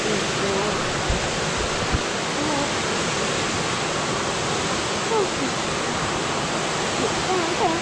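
Deep, fast river water churns through rapids in a steady, loud rush that never lets up, with people talking faintly beneath the flow.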